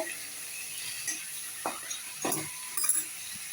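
Masala sautéing in a pan for chicken gravy gives a faint, steady sizzle, broken by a few short scraping stirs and light clinks of a spoon against the pan.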